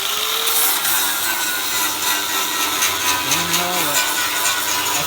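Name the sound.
cutting sheet metal on a 1966 Nova car body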